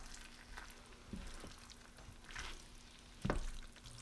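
Potatoes and meat being stirred together in a frying pan, a low steady sizzle with a few soft scraping clanks, one louder knock of the utensil near the end.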